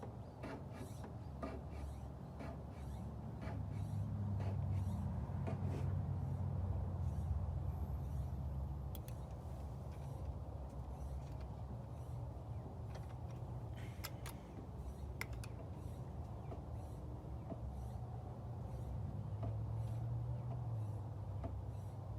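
A smoke machine runs on a 1979 Corvette L82 while vacuum leaks are traced, giving a steady low mechanical hum with faint ticking and clicking over a continuous background drone.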